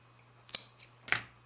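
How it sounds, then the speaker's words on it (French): Scissors snip yarn after a crochet slip stitch, giving a few quick, close, crisp cuts in an uneven rhythm over a faint steady hum. "On va couper le fil"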